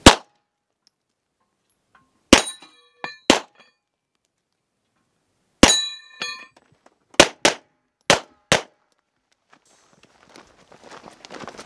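Bullets striking a steel target post at a multigun match: sharp metallic clangs arrive one after another with irregular gaps, some ringing briefly, plus a faint scuffle late on.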